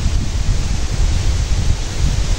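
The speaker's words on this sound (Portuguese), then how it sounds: "Começou uma ventania aí." Strong wind gusts blowing outdoors around eucalyptus logging work make a loud, continuous rumbling roar with uneven surges, buffeting a nearby microphone.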